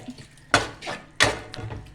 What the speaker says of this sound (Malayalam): ഇവിടെ കുറച്ച് വെള്ളം ഒഴിക്കുന്നുണ്ട്.